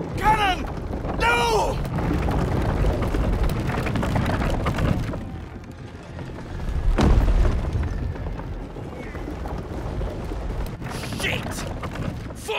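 Cannon fire in the video game Baldur's Gate 3 at a gate battle: deep booming blasts and rumbling battle noise with shouting voices in the mix, a heavy explosion surging near the middle.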